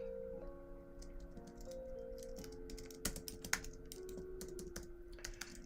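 Computer keyboard typing in quick, uneven bursts of close, crisp key clicks, steady over a quiet room hum with no talking.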